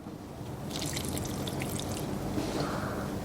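Water pours from a container onto potted hoya plants during plant maintenance, a splashing trickle close by that comes in uneven bursts over a low background hum.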